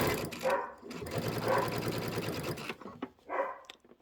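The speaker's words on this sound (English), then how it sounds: "let me go ahead and do a little back stitch there" A domestic sewing machine running a short back stitch through thick fabric while piecing a table topper gives a close, steady mechanical whir and rattle for about two seconds. A brief pause follows, then another short burst.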